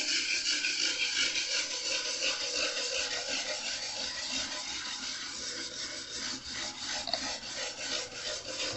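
A cloth rubs in continuous circular strokes over the fretboard of a 1963 Gibson ES-120T guitar during restoration, a close, steady raspy scrubbing with a gentle rhythmic rise and fall.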